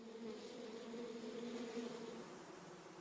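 Bees buzz in a steady, continuous drone, with no break in the hum, close and moderately loud, alone without any voices.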